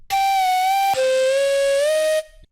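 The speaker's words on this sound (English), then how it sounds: "it's basically a recorded flute with a lot of distortion on it and some compression." Fire, a Serum lead preset built from a recorded flute with heavy distortion and compression: two sustained bright, buzzy tones, the second pitched lower and bending slightly upward before cutting off cleanly.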